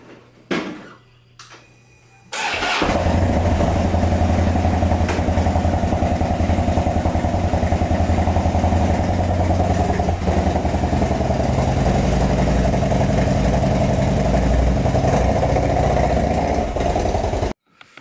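Harley Street Glide motorcycle engine starting after a few clunks and running steadily, a loud low rumbling idle that holds close and constant for about fifteen seconds before cutting off.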